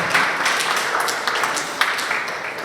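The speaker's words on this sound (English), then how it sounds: "Please, gentlemen, continue giving a round of applause before he sits down." Audience applause at a Nigerian Bar Association continuing legal education session, a steady wash of clapping from a room of lawyers, sustained at moderate loudness throughout.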